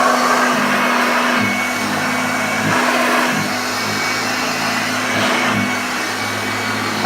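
A restored 1969 Hoover Junior 1354 upright vacuum cleaner runs with a loud, steady motor drone that dips slightly now and then.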